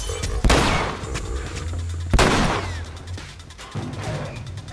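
Shotgun blasts in The Last of Us against a bloater on Grounded mode: two loud, sharp booms about two seconds apart, then a softer third shot, each trailing into a brief rumble.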